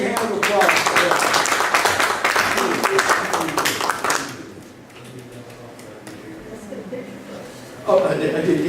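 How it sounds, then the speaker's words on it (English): An audience at a birds of prey show claps for several seconds, a dense burst of applause that then fades, with a voice talking as it dies away and speech returning at the end. "Let's give Joanna a really big hand of applause for that."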